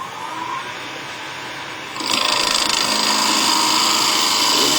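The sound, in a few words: skew chisel cutting wood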